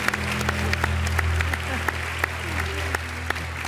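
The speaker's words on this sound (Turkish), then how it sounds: "Bir büyük alkışlayalım. Feyza Hanım'a da" The studio audience of Beyaz Show gives guest Feyza Hanım a big round of applause, steady clapping with sharper individual claps popping out, over a low continuous hum.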